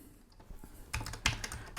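Keys clatter on a refurbished Commodore Plus/4 computer keyboard, a few scattered taps and then a quick cluster of close, crisp keystrokes in a quiet room.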